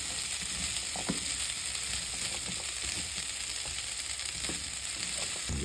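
Jeera, cumin and roasted masala fry in a pot with a steady, even sizzle and faint stirring scrapes, alone and without talk.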